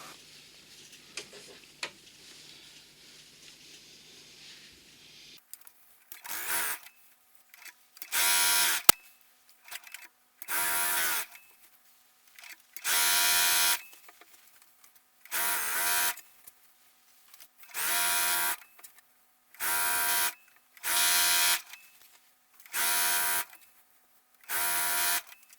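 A sewing machine stitches a seam on a quilt top in repeated bursts of steady whirring, each a second or two long, separated by short pauses, close and fairly loud after a quiet stretch at the start.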